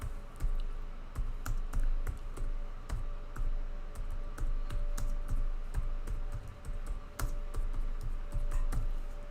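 Typing on a computer keyboard during a stocktake tutorial: a steady run of close, crisp key clicks in irregular rhythm over a low background hum, with no talking.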